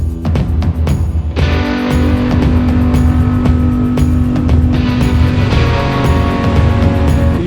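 Loud, close engine roar from a Kawasaki motorcycle, steady and throaty with rising revs and a harmonic whine, running continuously with no break.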